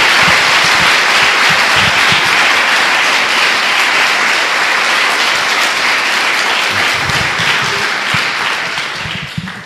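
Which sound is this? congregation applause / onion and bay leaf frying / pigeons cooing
congregation applause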